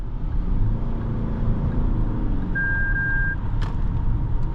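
A single steady blind spot warning tone sounds partway through inside a 2026 Lexus ES350h hybrid sedan, moderately loud over continuous low road and cabin rumble while driving in town.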